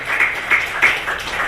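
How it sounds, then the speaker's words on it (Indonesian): A church congregation claps along in worship, rhythmic hand claps landing roughly every third of a second, fairly loud and close, with no speech over them. "Tepuk tangan buat Tuhan kita."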